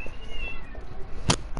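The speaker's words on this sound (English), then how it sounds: "it's just my cat. He made the noise." A single short cat meow sounds near the end, brief and fairly clear over a quiet room background.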